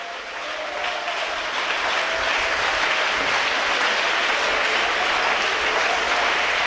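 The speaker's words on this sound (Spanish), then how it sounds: "Si ese aplauso es para Dios" A church congregation applauds loudly and continuously, the clapping building quickly and then holding as a thick, steady roar.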